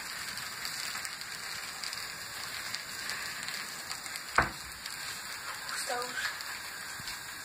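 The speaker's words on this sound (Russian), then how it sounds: "пока блинчик жарится." A pancake frying in a pan gives off a steady, faint sizzling hiss throughout, with one sharp click partway through and muffled background voices.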